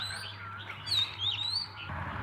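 Red-whiskered bulbuls in a tree give a few bright, wavering chirps, fairly close, over a steady low hum of morning traffic.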